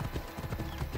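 Horse hooves clip-clopping in the video game Assassin's Creed Odyssey, a quick, quiet run of hollow beats in an irregular rhythm, with faint game ambience behind.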